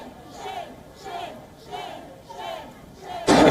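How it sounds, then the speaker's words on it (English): A large crowd of protesters heckles outside the Minneapolis mayor's residence, chanting in rhythmic rising waves of voices at a moderate distance, then ending in a sudden loud roar. "was heckled by a huge crowd of protesters"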